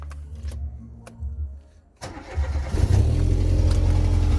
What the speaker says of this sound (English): next thing to do is start up the car